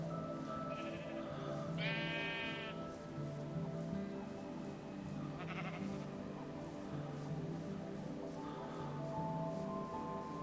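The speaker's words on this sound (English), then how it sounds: "Sheep eating the grass." Minecraft sheep bleat twice over a steady bed of game music and ambient sound: a clear, buzzy bleat near the two-second mark and a shorter one around five and a half seconds, both moderately loud and close.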